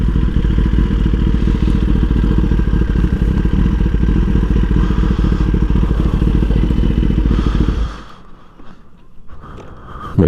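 A parked motorcycle's engine runs steadily at close range with a loud, even mid-range drone, then cuts off abruptly near the end, leaving quiet outdoor background.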